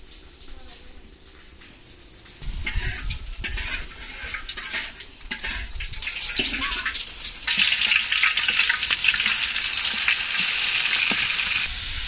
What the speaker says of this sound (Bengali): মাছটা একটু তেলে ভালোভাবে ভাজিয়ে নিই